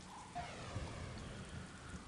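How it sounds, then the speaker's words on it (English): Steady video-game rain hissing across a wide band in Star Wars Galaxies, with a low rumble of thunder mixed in, continuous and even throughout with no talk. "there is actually rain in Star Wars Galaxies"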